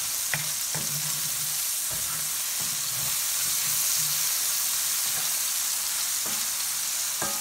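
Pork fried rice fries in a pan with a steady, dense sizzle throughout, broken by occasional soft scrapes and stirring knocks close by.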